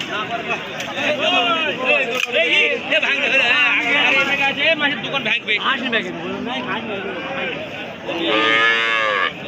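Cattle low repeatedly and loudly at a busy livestock market where a four-tooth bull calf is on sale. The calls overlap with a steady hubbub of nearby voices and trader chatter throughout.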